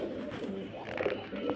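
Pigeons offered for sale, including a pair of jag pigeons, coo in low, steady murmurs that run continuously and fairly close throughout, with slightly louder bursts near the end.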